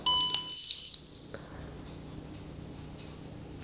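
A DJI Osmo phone gimbal powering on gives a short, bright electronic beep sequence with tonal chirps, followed by faint ticks and quiet motor settling.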